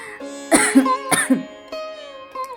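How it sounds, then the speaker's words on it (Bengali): Two sharp, close coughs from a person at home, each a loud burst followed by a short voiced, throaty tail, then quieter vocal sounds trailing off. "এই কথা বলতে বলতে সে কাশি ওঠে না"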